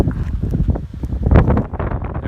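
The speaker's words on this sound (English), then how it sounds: "the wind is really coming strong" Strong wind gusts across a mountain ridge in the Roan Highlands on the Appalachian Trail, buffeting loudly and unevenly against the microphone near a staked-down tent, with no voices.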